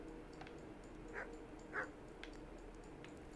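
Dogs bark behind a door in the medieval video game Kingdom Come: Deliverance, with two muffled barks in a row over a faint, steady ambient hum.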